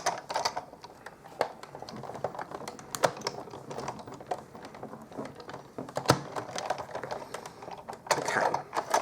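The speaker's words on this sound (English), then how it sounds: "I'm going to put my cutting pad on top and crank it through" A Big Shot die-cutting machine cranked by hand with a cutting pad on top, giving a dense run of irregular clicking and ratcheting thunks at close range, with no voices.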